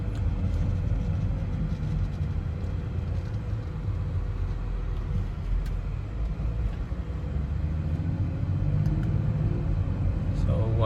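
A BMW with a pedal-shift retrofit drives along, its engine and road rumble forming a steady, loud low drone throughout with no clear breaks for gear changes.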